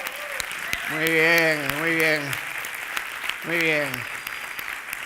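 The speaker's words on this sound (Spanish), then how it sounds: "Vamos a darle un gran aplauso a los compañeros de la mesa técnica" Audience applause at a digital skills conference, light scattered clapping in a hall running under a voice, which speaks briefly twice over it.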